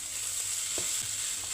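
Chinese fried rice hisses in a hot pan with a steady bright sizzle, broken by a few soft scrapes of stirring.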